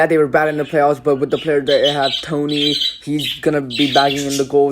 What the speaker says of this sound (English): sorry for my birds in the background